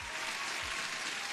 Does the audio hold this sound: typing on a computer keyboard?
no